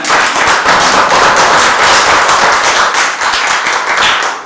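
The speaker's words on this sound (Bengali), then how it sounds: "জোরে হাততালি একটা।" An acting workshop group claps loudly and fast for several seconds, the dense applause nearby and filling the room with no talk over it.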